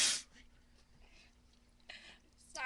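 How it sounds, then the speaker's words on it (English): A person sneezes once with a sharp, loud burst at the start, followed by quiet breathing and a couple of faint breathy noises. "Sorry, ladies and gentlemen, I had to sneeze."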